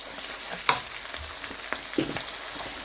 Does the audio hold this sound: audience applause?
no